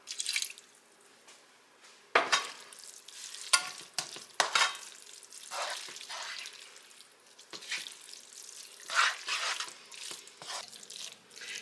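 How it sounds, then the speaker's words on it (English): Leftover ramen cooking water goes into a skillet of chicken, onions and cream cheese sauce, giving a soft sizzle and splashing followed by repeated close stirring and scraping strokes, irregular and moderately quiet. "I'm going to add in the rest of my ramen water."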